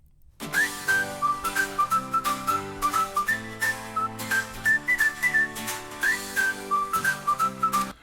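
A bright whistled melody of short, bouncy notes rides over a steady instrumental backing, repeating a catchy phrase throughout.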